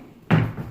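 A hidden door in a house under renovation, around stained and varnished woodwork, makes a single short thump or knock as it opens. The sound is moderately close, with a brief low rumble trailing after it.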